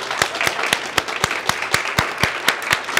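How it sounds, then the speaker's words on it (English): Applause from a small audience at the end of a guided art tour: sparse, distinct hand claps at an uneven rhythm that stay sharp and fairly close rather than blending into a roar. "please give him a big applause"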